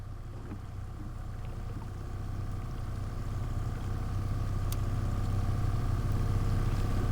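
A fishing boat's kicker motor drones low and steady on Lake Superior, with the trolling motor running too and a constant rumble that grows slightly louder over the span, under light wind; no talking.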